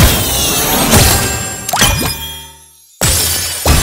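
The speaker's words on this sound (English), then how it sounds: "Can strike the battle gong." Metallic crashes from striking the battle gong in the video game Skylanders Imaginators, several bright clanging hits with shimmering ring, a brief dip to near silence, then another loud strike, close and forceful.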